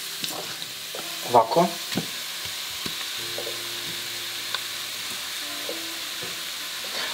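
Bacon with its skin is added to sauerkraut stewing in a pot, giving a soft, continuous sizzle with a few scraping stirs early on, heard close and fairly quiet, with a brief spoken word.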